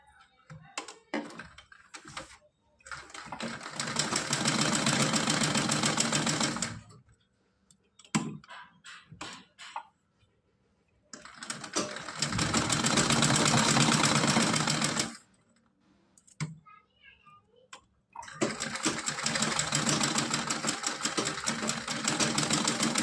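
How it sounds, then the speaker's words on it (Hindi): Sewing machine stitching doubled lining fabric for a designer outfit, running in three long loud bursts separated by pauses with small handling clicks, close by. "इसको इस तरह से डबल करके इस पे सिलाई लगा देंगे।"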